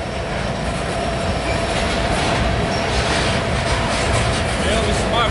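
A loaded CSX grain train led by a Ferromex SD70ACE locomotive rolls past, a loud continuous rumble and rattle of wheels on rails with faint squeals, heard close and steady throughout.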